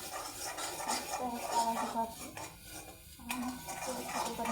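A spoon scrapes and stirs a mung bean vegetable dish with black ground masala in a metal pan, a steady close shuffling with faint sizzle and a murmur of voice underneath.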